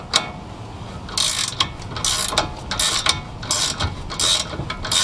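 A box end wrench ratcheting a nut off a Volvo lower control arm bolt, in bursts of rapid metallic clicking, close and fairly loud, with short pauses between turns.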